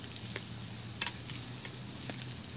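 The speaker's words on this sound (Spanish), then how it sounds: "rehogar un poco la cebolla y saltear el chorizo" Chorizo and onion sautéing in a pan over a campfire outdoors, a steady soft sizzle with a few brief clicks of a utensil stirring, fairly quiet.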